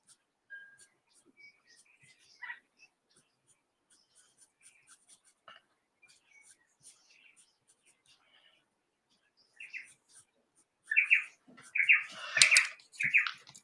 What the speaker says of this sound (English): I know you guys like listening to the birds.